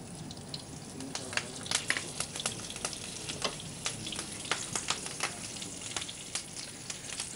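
Green chillies and onion frying in a pan make a faint, continuous crackling sizzle dotted with small pops and spits.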